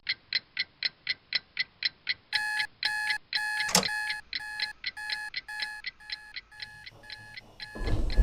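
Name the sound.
alarm clock going off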